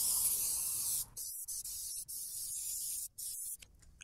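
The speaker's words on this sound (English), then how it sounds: "Just going to spray some on the tray here." Aerosol spray hissing onto the outside of an Old Country Brazos offset smoker and its tray, a close bright steady hiss that breaks into several short bursts of varying length, with no talk.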